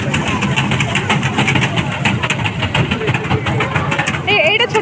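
A small motorbike engine idling close by at a fair, a steady throbbing putter with a faint voice over it near the end.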